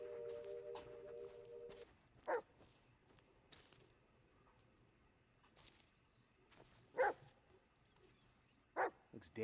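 A dog in the Blair Witch video game gives a few separate short barks and yips at close range, spaced apart over quiet footsteps and low background ambience.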